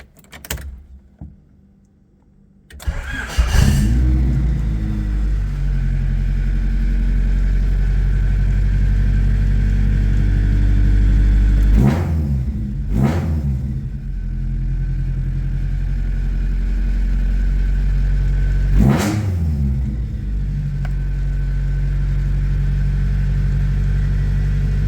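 A Honda Civic EF with a B16 engine cranks and starts after a quiet pause, then idles steadily with several sharp revs blipping above the idle, heard close up with no talking.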